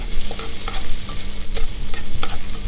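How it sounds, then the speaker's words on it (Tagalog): Young ginger frying in a pan for chicken adobo while being stirred, a loud close sizzle broken by repeated scraping strokes of the spoon against the pan. "matapos natin ilagay ang young ginger, ay halu-haluin lang natin"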